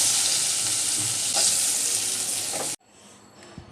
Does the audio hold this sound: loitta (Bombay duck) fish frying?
yes